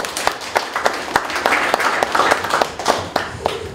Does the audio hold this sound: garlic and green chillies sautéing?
no